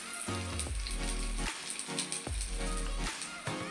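Red chillies and asafoetida sizzle in hot oil for a tempering, crackling loudly and close with repeated spattering bursts, and no one speaks.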